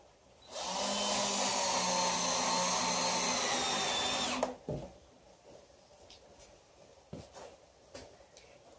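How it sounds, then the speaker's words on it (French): A power drill drives screws into recycled wood planter boards, one loud continuous whir lasting about four seconds, close by, then stopping and followed by faint knocks and handling noises. "On va essayer de visser par l'intérieur pour avoir le moins de vis apparent que possible par l'extérieur"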